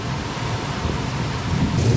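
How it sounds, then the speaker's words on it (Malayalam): Heavy rain pours down in a steady, dense hiss with a low rumbling undertone that swells slightly toward the end, with no voices. "കണ്ടോ, നല്ല മഴയാണ്."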